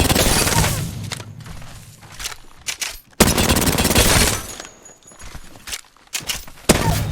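Rapid bursts of gunfire from Apex Legends, loud and close, with several volleys separated by brief gaps and sharp onsets.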